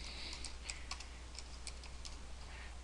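Typing on a computer keyboard while entering slide titles for a property listing, a quiet run of light, irregular clicks over steady background hum.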